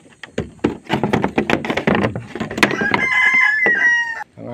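Chickens and chicks in a newly built coop: close wooden knocks and rustling clatter, then clucking and a rooster crowing near the end.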